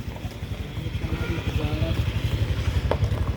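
Motorcycle cruising through the highland tea plantations of Alahan Panjang, West Sumatra: a steady, close engine drone with a rhythmic pulsing throb that builds slightly in loudness, plus wind and road rumble.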